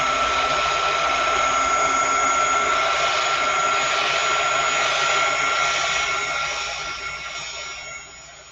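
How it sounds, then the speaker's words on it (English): A heat gun blows steadily while drying vinyl on a handmade wooden manger scene, giving a constant whooshing whine that fades near the end. "Gonna get my heat gun and dry that."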